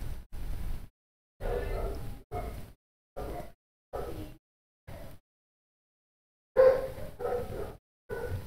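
Several dogs barking in short bursts separated by silent gaps, fairly close and moderately loud, with no talking over them.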